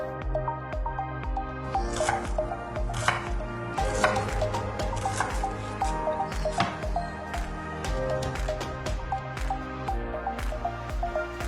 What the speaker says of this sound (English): Now we want to go in with some shallots. Okay, so this just needs to be roughly chopped.